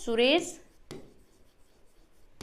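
Marker or chalk writing on a board during an algebra lecture, brief scratchy strokes and taps after a short spoken word from the teacher, otherwise quiet room.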